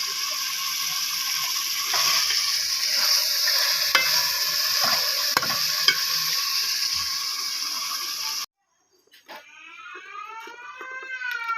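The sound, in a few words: aloo gobi masala being sautéed in a pot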